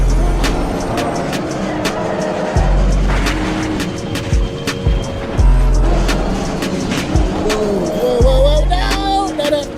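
A race car engine in a racing video game roars loud and steady with a stuck throttle, its tone holding high and dropping briefly in a few short cuts, with music or other game sounds layered underneath.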